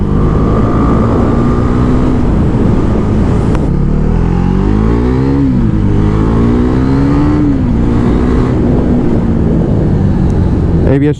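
A Husqvarna Svartpilen 401 motorcycle engine drones steadily close by on a test ride, rising and falling in pitch as it accelerates and shifts, loud throughout.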